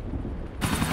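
A single sharp burst of gunfire in the crime game GTA 4, loud and close, cutting in abruptly after a brief low rumble.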